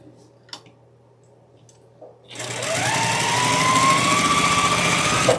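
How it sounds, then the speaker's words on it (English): Sewing machine stitching quilt block pieces with a quarter-inch seam, starting after a few quiet clicks and running steadily with a fast, even mechanical whir and rising motor tone, close by. "We're going to sew those together, just lining them up and sewing with a 1/4 of an inch seam."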